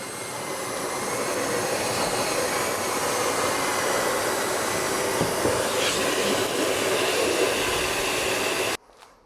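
A loud, steady vacuum roar runs continuously while a chimney is swept with a Sweep Seal vacuum system, with faint scraping inside, then cuts off abruptly at the end.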